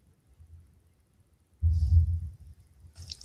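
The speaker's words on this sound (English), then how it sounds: "Little rumbles of thunder in the distance." Low thunder rumbles far off on a mild day, a faint quiet stretch giving way to a deeper rolling swell midway that fades and then stirs again, with faint higher noises near the end.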